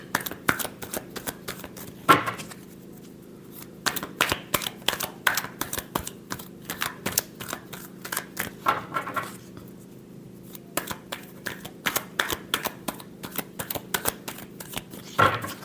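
Tarot cards are shuffled by hand in repeated bursts of rapid riffling clicks and flutters with short pauses between them. The sound is close and fairly quiet, with no voices.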